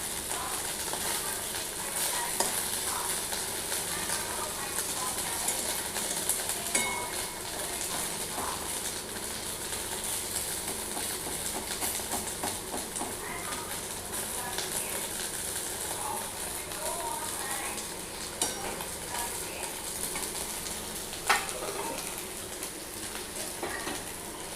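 Potato fritters fry in oil with a continuous crackling sizzle that lasts throughout, close and even, with occasional faint clicks and quiet background noise.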